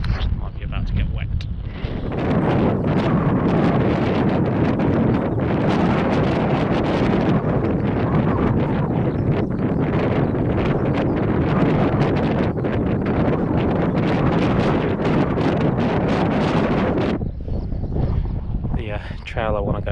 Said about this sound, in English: The wind's picked up a bit and the clouds coming in as well